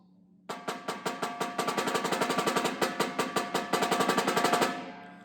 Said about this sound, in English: Let's say you want to do soft rolls.